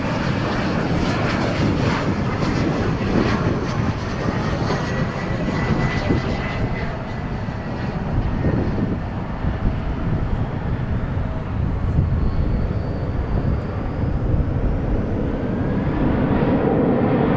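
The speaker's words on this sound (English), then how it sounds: "Pumping the noise with those A321's engines." Airbus A321 jet engines roar steadily at DFW airport, a loud, sustained broadband rumble that holds for the whole stretch with a faint high whine, no voices over it.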